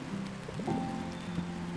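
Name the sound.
rain falling, from the video game Until Then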